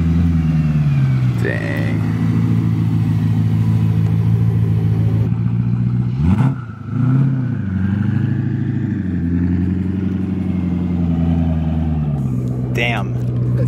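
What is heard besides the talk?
Gintani twin turbo BMW E92 M3 engine revving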